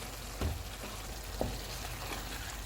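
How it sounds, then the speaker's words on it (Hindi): Minced keema with spices frying in a karahi pan, a faint steady sizzle with a couple of soft stirring knocks, no talking. "सारे मसाले डालेंगे। इनको 4 से 5 मिनट तक भूनेंगे।"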